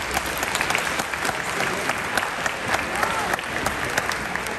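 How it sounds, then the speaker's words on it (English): An audience claps steadily and enthusiastically throughout, a dense wash of hand claps from a sizable crowd, with no speech. "give our audience a great round of applause for being here"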